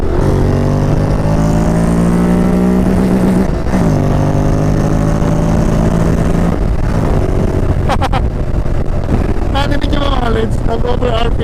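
A Honda X-ADV 750 motorcycle's engine revs hard and high, its pitch climbing in repeated sweeping surges, close and loud, with voices heard over it later on.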